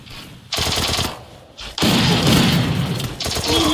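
Bursts of rapid automatic gunfire in the mobile battle royale game Garena Free Fire, loud and close, firing in several long sustained volleys separated by short pauses.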